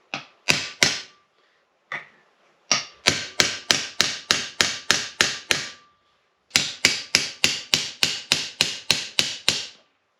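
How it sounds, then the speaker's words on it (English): Sharp metallic hammer taps on a seal driver, seating a seal into a brake rotor on a 1975-1991 Ford Econoline, in quick regular bursts, several runs of rapid strikes separated by short pauses, loud and close. "just give it a couple taps. Where's my hammer?"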